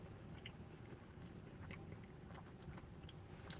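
Burger King Swiss mushroom melt burger with melted Swiss cheese, eaten cold and close up: soft, faint bites and moist chewing over a steady background hiss, no speech.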